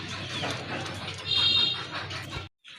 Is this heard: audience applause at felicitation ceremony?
no